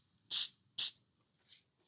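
Two short, sharp bursts of aerosol layout dye hiss onto a knife blade in a quiet workshop, followed by a fainter third puff, each lasting a fraction of a second.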